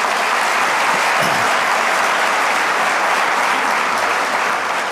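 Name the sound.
audience applause for award winners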